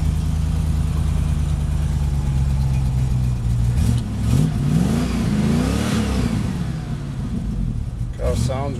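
A tuned used car's engine revs up and falls back in several rising and falling sweeps over a steady loud idle, close by, with a short burst of speech near the end.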